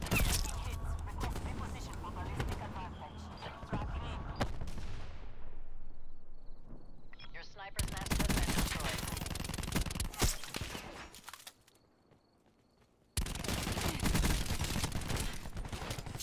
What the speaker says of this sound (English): I just missed a shotgun shot at point blank range